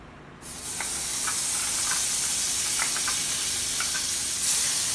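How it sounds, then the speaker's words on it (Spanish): Butter drops into a preheated frying pan and starts a loud, steady sizzle close by, with faint scraping along the way and no talking. "Voy ahora a proceder a echar la mantequilla"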